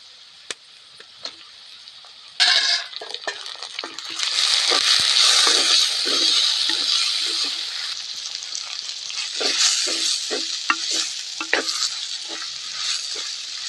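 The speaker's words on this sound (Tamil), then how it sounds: "தக்காளி நல்லா வதங்கணும்." Tomatoes sautéing in hot oil in a pan for Tamil oil brinjal curry, a steady bright sizzle broken by repeated scraping and stirring strokes, loud and close, with no talk.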